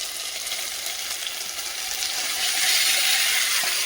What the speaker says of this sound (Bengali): এখন এই যে ভেজে রাখা ডিম, ব্রোকলি, আলু সব কিন্তু একসঙ্গেই দিয়ে দেব।